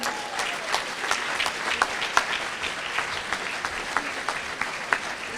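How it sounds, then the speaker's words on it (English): Audience at a school awards gala applauding, with steady, dense clapping from a large crowd and sharper individual claps standing out throughout. "Let's give her another round of applause."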